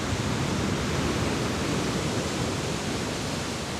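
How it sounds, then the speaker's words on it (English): Wind and ocean waves on the far north coast of Oahu in Hawaii make a dense, steady roar of broadband noise that stays constant and fairly loud throughout, with no voices. "Wind and waves, two elements indispensable to her life."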